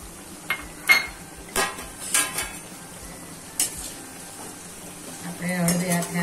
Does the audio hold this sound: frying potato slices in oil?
yes